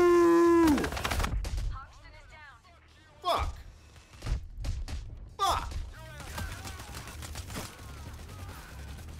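Gunfire in the PAYDAY 3 video game comes as scattered bursts of shots and loud impacts, mixed with frantic voices and other game sounds.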